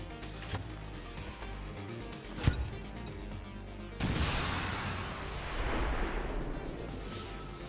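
Grenade explosion in the video game XCOM 2: a sharp crack, then a broad rumbling blast with lingering debris noise under game sounds, moderately loud.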